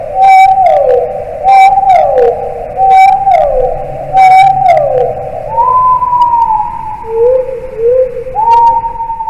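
Dolphin whistles rising and falling in repeated upsweeping tones, with bursts of rapid clicks between them, loud and clear with no talking.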